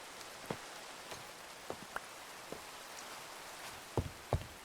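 Scattered video-game raindrops in Minecraft tapping on a surface, irregular soft patters over a steady quiet hiss, with no voices.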